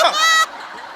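A short, loud, nasal duck quack lasts under half a second and stands alone before a quiet stage background in a Marathi comedy show.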